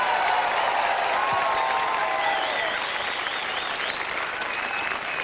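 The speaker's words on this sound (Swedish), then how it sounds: "Ge dem en varm applåd." Warm audience applause at the Allsång på Skansen outdoor sing-along show in Stockholm, a large crowd clapping steadily and loudly throughout, with faint cheering and a few whistle-like tones rising above the dense clatter.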